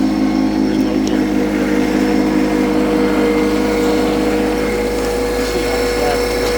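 Vehicle in low gear dragging a rusty grading blade across a gravel driveway, a steady engine drone with scraping grit underneath, close and continuous, with a voice speaking over it.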